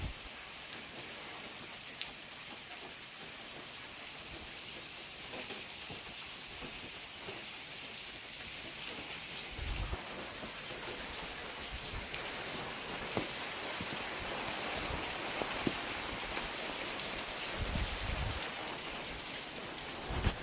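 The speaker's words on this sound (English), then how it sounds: "First time it's finally rained since I've lived in California." Steady rain falling in California, a continuous soft hiss of drops on surfaces that lasts throughout, with a few closer, heavier patters and no talking.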